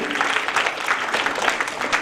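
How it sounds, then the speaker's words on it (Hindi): Audience applause for a guest at a book launch ceremony, a steady wash of clapping throughout without clear breaks. "एक बार जोरदार तालियां हमारे गेस्ट के लिए।"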